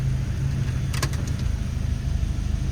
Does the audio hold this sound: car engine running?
yes